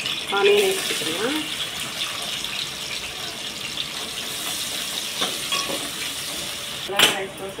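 Chopped onions sizzle steadily in hot oil with curry leaves in the pan, a continuous hiss with occasional stirring scrapes and a sharper clink near the end, fairly close and moderately loud throughout.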